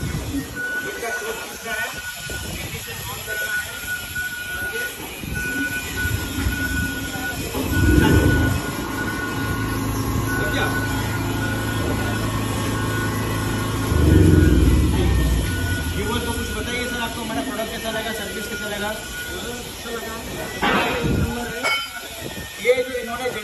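A 15 kW single-phase generator set, started with its recoil rope, runs with a steady, loud mechanical drone that swells briefly twice, while people talk over it.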